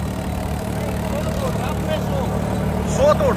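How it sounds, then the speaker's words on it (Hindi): Steady low engine drone of a tractor running a new 7-foot rotavator in a field, continuous and fairly loud, with a voice speaking over it near the end. "रोटावेटर नवा है भाई, नया रोटावेटर है 7 फीट का"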